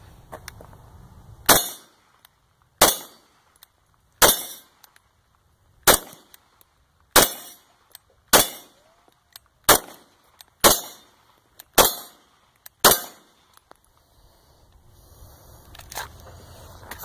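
An FNX 45 pistol firing its first ten rounds: ten sharp, loud, close reports spaced roughly a second apart at a steady pace, each with a brief ringing tail, followed by quiet.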